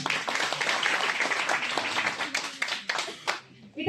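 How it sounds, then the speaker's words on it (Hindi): A roomful of people claps loudly at a Republic Day celebration, dense at first and then thinning into scattered claps before stopping, with some voices mixed in. "एक बार फिर से जोरदार तालियां।"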